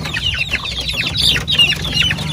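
Chickens clucking on a farm, a busy overlapping run of loud, close clucks and short calls over a low background hum, with no speech.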